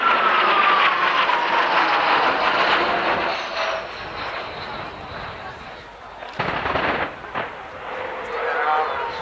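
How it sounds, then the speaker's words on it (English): Military jet at a 1991 Alconbury airshow making a simulated attack on a ground target: a loud, whining jet pass that fades, then sharp bursts like pyrotechnic blasts, with commentary over the top. "The aircraft coming in for a simulated attack on a ground target."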